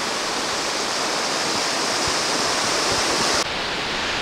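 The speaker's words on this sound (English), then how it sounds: "A little bit of a waterfall here." Steady, full rushing of a small waterfall beside a trail at Parc Baie-des-Rochers on the St. Lawrence River, constant and close, with no voices over it.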